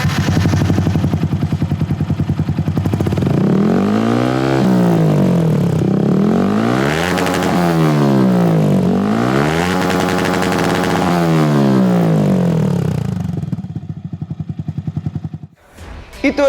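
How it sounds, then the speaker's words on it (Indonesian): A Yamaha R15 V3 motorcycle with a CLD Suck Series aftermarket exhaust revs up and down in repeated deep, throaty surges, close and dominant, before cutting off to quiet. "Itu adalah suara dari silinser CLD Suck Series yang disematkan di motor"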